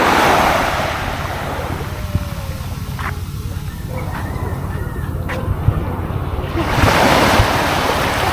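Small sea waves washing onto the shore of a calm, clear-water beach on Paluan Island, Occidental Mindoro, a steady close surf wash with gusts of wind buffeting the microphone and brief faint sounds in the background.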